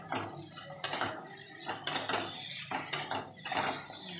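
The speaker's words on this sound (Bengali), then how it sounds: "নুন হলুদ লঙ্কা গুঁড়ো জিরে গুঁড়ো আর আদা বাটা দিয়ে আবারও মশলাটাকে আমি ভালো করে কষিয়ে নেব" Spices, salt, turmeric, chili and cumin powder with ginger paste being stirred and fried in a pan, heard as a series of close metallic scrapes and clinks from a spatula against the pan, spaced roughly every second over a quiet sizzle.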